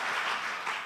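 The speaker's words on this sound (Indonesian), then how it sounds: "Beri tepuk tangan dulu untuk Tuhan kita." Congregation applauding during a Sunday Easter church service, a brief burst of close, dense clapping that fades slightly at the end.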